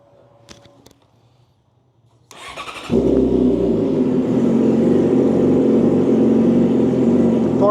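After a couple of faint clicks, a Yamaha R6 600cc motorcycle engine cranks and fires up, settling into a loud, steady idle close by.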